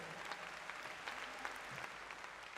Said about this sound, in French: que je vous demande d'applaudir très très fort